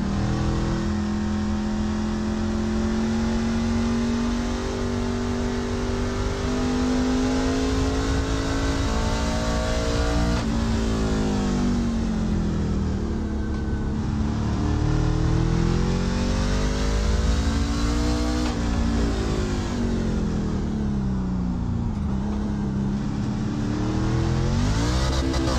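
A race truck engine in the iRacing Truck Series at COTA drones loudly and continuously, its pitch climbing and dropping through gear changes and corners, with no talk over it.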